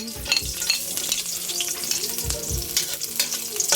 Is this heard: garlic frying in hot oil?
yes